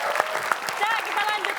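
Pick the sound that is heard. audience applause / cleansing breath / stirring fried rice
audience applause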